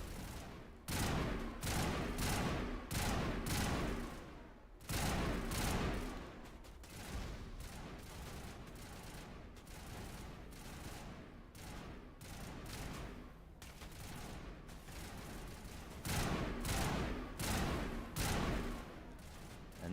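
Rifle fire in the Mass Effect video game during a fight against Geth, with loud, rapid bursts of automatic shots crackling almost continuously and brief gaps between volleys.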